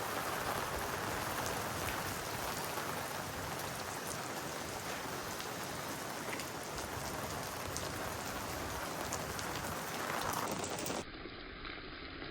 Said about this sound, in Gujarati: વરસાદ જોરદાર આવે છે